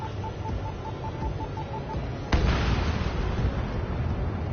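Bombs from an aircraft in an air combat video game blast with a sudden heavy burst that rolls into a sustained low rumble of explosions, after a steady droning background and an electronic beeping tone.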